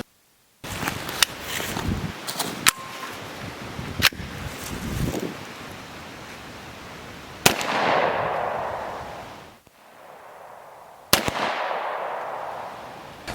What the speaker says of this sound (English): Do you want to shoot a little?